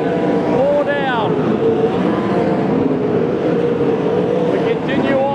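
Sprint car engines roar together at Moama Speedway, a dense, loud, continuous racing din with a few higher revving engine sweeps rising and falling above the pack, under a race commentator's talk.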